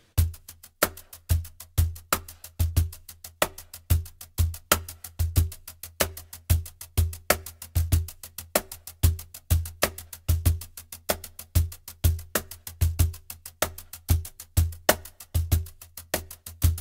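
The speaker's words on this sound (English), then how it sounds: "we play all the 16s with the brush" A brush plays short staccato sixteenth notes on a cajon in a steady, even rhythm, with crisp close taps and regular stronger accents, played alone.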